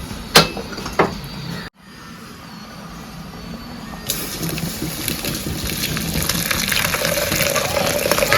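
Water from boiled lentils for Andhra pappu charu poured from a pot into another bowl, a steady close splashing stream that grows fuller and louder toward the end after a few brief knocks.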